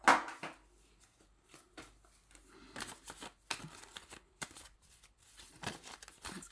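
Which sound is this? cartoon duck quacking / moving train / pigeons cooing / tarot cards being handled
tarot cards being handled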